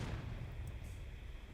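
Low rumbling artillery fire rolls on steadily in a Blue & Grey Civil War–era video game battle, a dense continuous boom with faint crackles on top and no voices.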